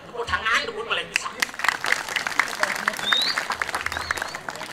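Applause from the audience at a Balinese comedy performance at a temple, scattered clapping mixed with crowd noise and voices, with a whistle-like tone rising near the end.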